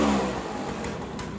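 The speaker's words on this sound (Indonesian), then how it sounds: "Memang knalpotnya bocor kok." Motorcycle engine with a leaking exhaust, a rough, raspy idle running close and steady for a moment with a slight fall in revs.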